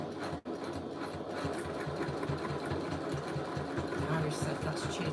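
A sewing machine stitches around a bag exterior with a continuous mechanical hum and fast repetitive needle pulses, briefly pausing near the start, then running on steadily at moderate loudness.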